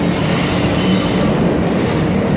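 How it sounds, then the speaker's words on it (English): A New York City subway train pulls into track 4 at Times Square–42nd Street station, a loud, steady roar of rolling wheels and rail noise filling the platform with faint squealing and clatter. "As we speak, the train on track 4 is arriving."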